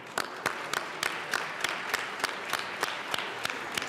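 Scattered, fairly even claps ring out in the Colorado House chamber during its 2019 session as members welcome Equity Day guests seated in the back row, a thin, moderately quiet round without talk.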